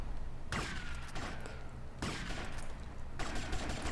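Shotgun blasts in GTA Vice City, three loud broadband bursts spaced roughly every one and a half seconds, each trailing off into a noisy decay.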